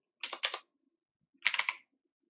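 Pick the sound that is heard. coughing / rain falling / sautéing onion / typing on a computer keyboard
typing on a computer keyboard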